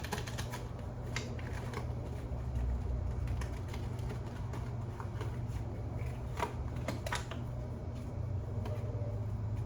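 Tarot cards are shuffled by hand, giving a steady run of soft, dry riffling and papery flicks with sharper card snaps now and then, close up and alone. Faint bird cooing carries in the background.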